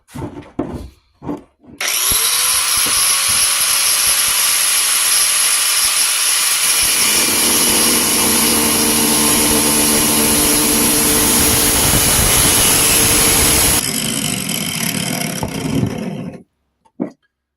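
A loud power tool whines steadily for over ten seconds, its pitch dropping as it bites into a hard conch shell, then cuts out abruptly.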